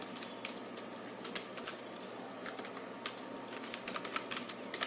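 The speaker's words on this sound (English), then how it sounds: "just type a command" Keys tapped on a computer keyboard while entering a command to copy files, a close, steady patter of irregular clicks over a faint background hum, with no voices.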